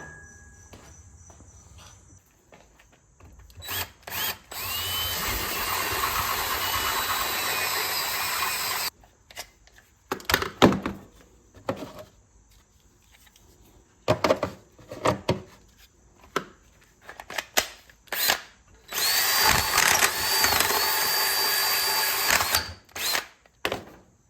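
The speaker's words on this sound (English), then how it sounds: "let's drill some holes and see how this works out" A power drill whirs in two long sustained bursts with shorter spurts between, drilling holes in a Hustler Fastrak SDX mower deck, loud and close, separated by clattering handling noises.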